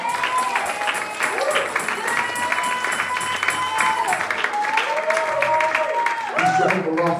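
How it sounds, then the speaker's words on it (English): Church congregation clapping hands during a healing sermon, a steady dense patter that runs the whole time beneath a loud voice preaching and calling out over it. "Go clap them hands one more time."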